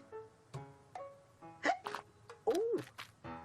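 Cartoon character Abney, a children's animated figure, hiccups several times in a quick uneven series of sharp vocal gulps, with a bit of music or voice tone underneath.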